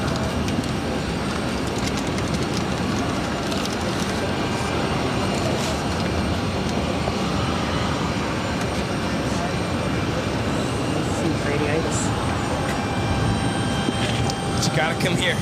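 A Nantucket Airlines plane departs, its engine noise a steady, moderately loud drone mixed with broadband airport rumble and a few brief clicks, with no voice over it.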